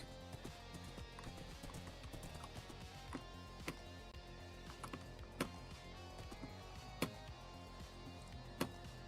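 Steady, faint clip-clop of a horse's hooves moving at a walking pace, with occasional sharper hoof knocks standing out over a busy, murmuring background.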